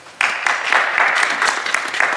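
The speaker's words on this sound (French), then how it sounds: "Il y a de moins en moins d'applaudissements." An audience at a school play breaks into applause, starting abruptly and continuing as steady, moderately loud clapping for about two seconds.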